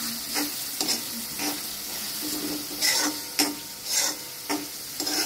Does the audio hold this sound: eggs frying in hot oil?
yes